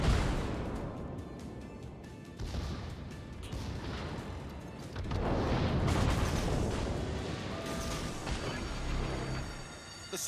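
Torpedo hits on warships in World of Warships give deep, rumbling explosions that swell and fade over a steady low roar of battle, with some crackling bursts on top.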